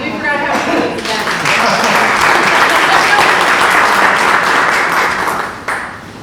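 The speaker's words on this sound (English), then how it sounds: "So, yeah, let's do the clapping." An audience at an industrial association luncheon breaks into dense, loud applause that builds quickly and then tapers off, with a voice heard over the clapping.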